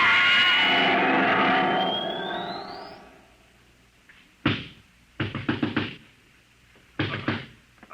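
A radio-drama pounding on a door comes through as several heavy bursts of thuds in quick clusters after a fading tone and a rising whine, with short pauses between each round of blows.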